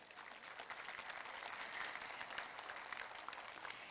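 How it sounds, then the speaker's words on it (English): A graduation crowd at a high school class of 2020 ceremony breaks into steady, dense applause that carries on evenly throughout, heard from a distance without any voices over it. "Please give them a round of applause"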